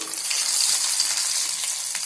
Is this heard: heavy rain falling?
no